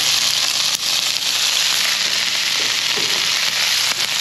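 Pork sizzles loudly in a hot, well-used wok-style pan, a dense, continuous hiss of frying that stays strong and even throughout, heard close up with no talking over it.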